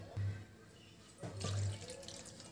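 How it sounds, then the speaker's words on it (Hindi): Water pours from a small glass into a cooking pot of tivra bhaji greens in a home kitchen, two splashing pours in close succession, near and moderately loud. "अब इसमें हम लोग पानी डाल देते हैं।"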